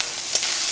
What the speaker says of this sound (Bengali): মশলাটা নেড়ে নিচ্ছি।